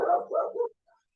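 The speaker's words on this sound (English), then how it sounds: "my dogs are barking." A dog gives a short burst of low, gruff barks run together over under a second, fairly close, followed by a faint yip and then silence.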